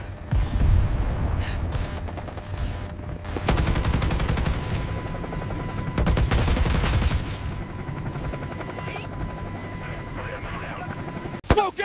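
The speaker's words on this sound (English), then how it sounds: "the massive, heavy firefight rages violently around the exposed team" Heavy gunfire crackles in a chaotic firefight near a hot helicopter landing zone, bursts of rapid shots and booms layered under a narrator's voice and background rotor noise.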